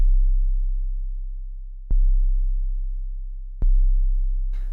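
An 808-style bass synth note programmed in Logic Pro X: a deep, sustained sub-bass tone retriggered twice, each hit marked by a sharp click and a slow decay, with no voices.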